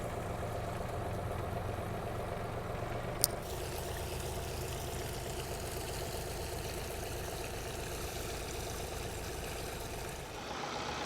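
A tractor engine idles steadily at a trench dug for plumbing, a continuous low mechanical drone with no talk, broken only by one brief sharp click partway through.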